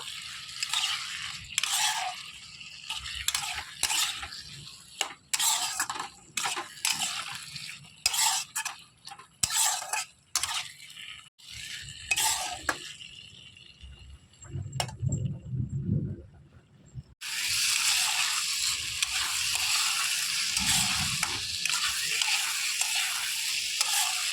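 Ghugni of goat fat and peas stirred in a pot, with scraping spoon strokes in bursts over a steady sizzle; the sizzle swells louder and continuous in the final stretch, no talk.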